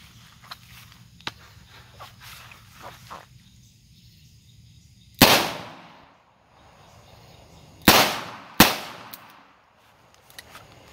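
Three loud, sharp shots from a Smith & Wesson Model 66-8 .357 Magnum revolver fired outdoors, the first alone and the last two in quick succession, each followed by a long echoing decay over faint insect chirping.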